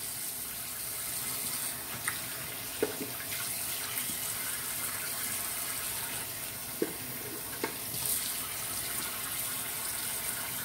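Water runs steadily from a bathroom sink tap while beard trimmings are rinsed away, a continuous close hiss with a few faint clinks and splashes.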